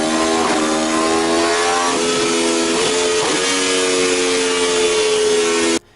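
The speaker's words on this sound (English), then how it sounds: "Let's get a sound check of what the RSV4 sounds like." A 217-horsepower Aprilia RSV4 superbike, an earlier edition of the model, with the engine held at a high, steady buzzing pitch after a short rev at the start, loud and close, before it cuts off abruptly.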